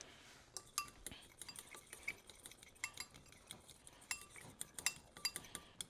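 Metal utensil clinking and scraping in a bowl while stirring together black pepper, kosher salt and onion powder seasoning, a series of quiet, irregular close-up taps with no talking.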